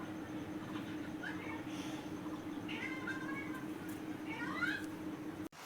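A cat gives several short meows in the middle and toward the end, over a steady background hum and a faint voice.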